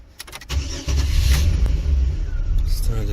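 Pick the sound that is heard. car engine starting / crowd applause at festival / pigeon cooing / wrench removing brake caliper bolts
car engine starting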